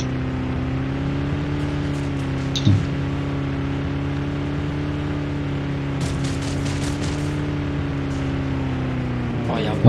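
A vehicle driving in the video game Planetside 2, its engine a steady, loud, droning hum held throughout, with a brief knock near the start and a sharp hit at the very end.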